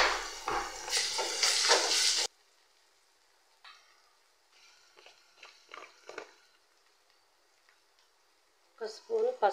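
Onions frying in a pan for a Telangana-style mutton curry give a loud, dense sizzle for about two seconds, then drop to quiet scraping and clinks, with a short burst of sizzle returning at the end.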